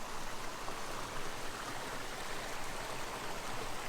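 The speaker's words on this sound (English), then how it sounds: "Just a beautiful creek" Creek water flows steadily over rocks, a constant close rushing hiss with no breaks and no voices.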